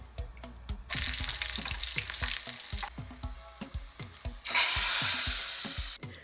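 Cumin seeds and garlic crackle in hot oil in a pan, with quick rhythmic clinks of stirring throughout and two sudden surges of loud sizzling, close up.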